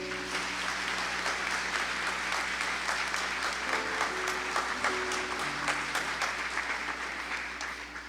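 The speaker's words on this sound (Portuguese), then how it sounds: "Se está entendendo, pode aplaudir." A Catholic congregation applauding in church during a priest's sermon: sustained, dense clapping from many people in a reverberant space, steady and moderately loud, with a soft tonal hum underneath, fading slightly at the end.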